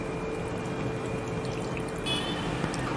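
Water pours in a steady stream into wheat flour for a few seconds, a soft continuous splashing that shifts slightly near the end.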